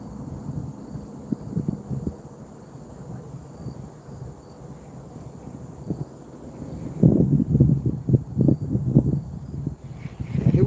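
Wind gusting outdoors at a fishing spot, a steady broadband rush with louder, choppy buffeting bursts in the second half, close and rough like gusts hitting the microphone, with no talking.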